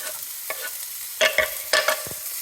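Onion frying in a pan for tacos while being stirred: a steady background sizzle is broken by several sharp, bright spatula scrapes and clatters clustered near the end, close and loud.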